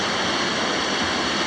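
Rushing water of shallow early-season rapids on the Blackfoot River in low water, a steady, loud, broadband roar with no breaks.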